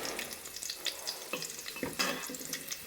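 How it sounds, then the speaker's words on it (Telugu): Almonds and raisins frying in ghee for carrot halwa, a soft steady sizzle with faint stirring scrapes, close and moderately quiet, no talk. "బాదం అయితే నెయ్యిలో వేసుకొని గోల్డెన్ బ్రౌన్ కలర్ వచ్చే వరకు వేగనిద్దాం"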